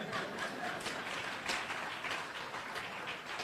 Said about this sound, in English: Don't be hesitant in your applause.